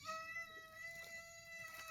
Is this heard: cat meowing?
yes